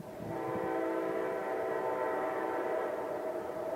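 A loud, sustained train horn blares continuously, its harmonic chord holding steady with no voices.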